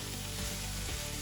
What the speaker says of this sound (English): we will put in the kale and stir it in really good